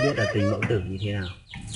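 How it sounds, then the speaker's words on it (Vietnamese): A spotted dove mother feeds her newly hatched chicks, and close, high chirps and cluck-like calls come in short, rapid runs with no talk. "đây là lúc con chim mẹ bón cho con chim non"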